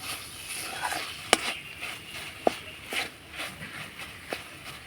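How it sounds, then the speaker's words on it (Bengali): A spatula stirs carrot pitha filling with a little cardamom powder in a pan, a soft scraping swish with occasional sharp clicks against the pan over a steady low sizzle. "সবশেষে দিয়ে দিব সামান্য একটু এলাচ গুঁড়ো ফ্লেভারের জন্য, তাহলে খেতে বেশি ভালো লাগবে। একটু নাড়াচাড়া করে নেব।"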